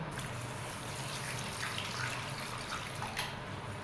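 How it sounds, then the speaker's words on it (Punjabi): Rice being washed in a bowl of water, a steady close swishing and trickling wash of liquid throughout with faint drips; no talk. "ਇਹਨਾਂ ਚਾਵਲਾਂ ਨੂੰ ਆਪਾਂ ਪਹਿਲਾਂ ਵਾਸ਼ ਕਰ ਲੈਨੇ ਆ"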